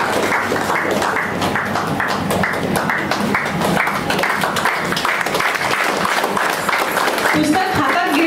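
An audience at a 2024 book lovers' gathering in Lonavala claps steadily, a dense, even patter of many hands sustained for several seconds with voices faintly mixed underneath.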